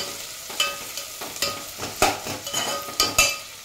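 Onions frying to golden in a pan for egg biryani, a steady close sizzle broken by several sharp scraping stirs of a spatula against the pan, no voices.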